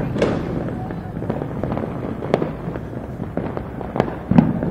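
New Year fireworks and firecrackers burst in quick, scattered pops and cracks, some sharp and near and others more distant, over a continuous outdoor rumble.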